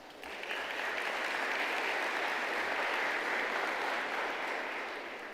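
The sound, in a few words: audience applause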